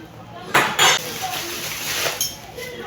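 Metal spoons and cutlery being handled, with two brighter clinks near the start and a steady background of light rattling and room noise.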